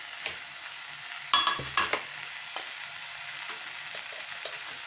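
A spoon stirs coriander, chili and turmeric powders into mashed tomatoes sizzling in a pan, a soft fry crackle under a few louder scraping clinks of utensil against metal.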